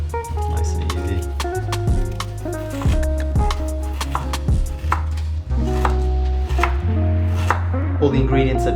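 Knife chopping ingredients on a board, with fast, regular, close thuds in bursts and brief pauses between runs, heard alone with no talking.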